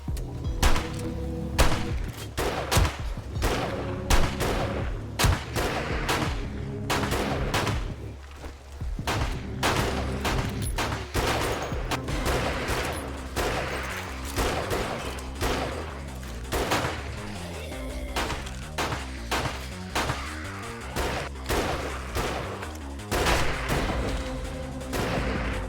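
Pistol gunfire in the video game 7 Days to Die, with many sharp shots in quick irregular bursts over a continuous low rumble, loud and close throughout the stretch.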